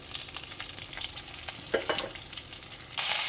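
Cumin seeds, garlic cloves, curry leaves and a pinch of asafoetida sizzle and crackle in hot oil for a Telugu pappu charu tempering, a steady close frying hiss with small pops, swelling louder near the end.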